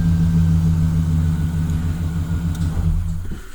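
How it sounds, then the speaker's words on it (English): A 2011 Chevrolet Silverado pickup's engine idles with a steady low rumble, then cuts out and falls quiet at the end. "Now we're going to shut off the engine by holding the brake pedal."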